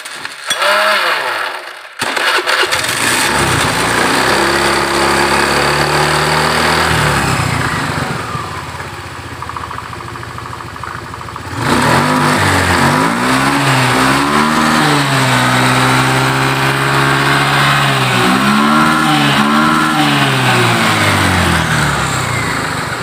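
A Honda Beat FI scooter with an injection-tuning fault, running loud and close: its engine idles, then revs up and down in repeated swells with a steady buzzing tone throughout.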